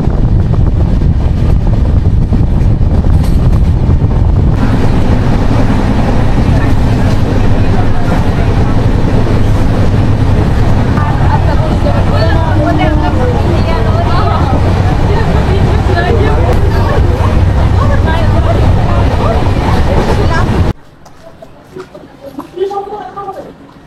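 The Tamralipta Express 12857 runs from Howrah to Digha with a loud, steady rumble and wind buffeting for about twenty seconds, passenger chatter mixed in, before cutting to a much quieter scene.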